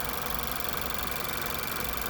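A Mazda 6 2.5 turbo Skyactiv engine runs at a steady idle, a close continuous mechanical hum with faint ticking and no talk over it.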